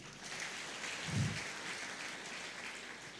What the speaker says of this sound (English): Let us clap for our sister.